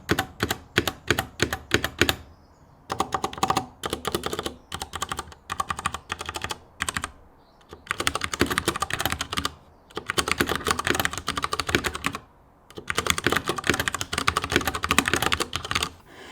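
Fast bursts of clicky keystrokes on a Cooler Master MK750 mechanical keyboard, close and crisp, coming in several runs separated by short pauses, with no voices.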